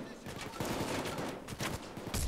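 Gunfire during a Payday 2 heist shootout: rapid bursts of automatic shots crackling in clusters, moderately loud, with a voice talking faintly beneath them.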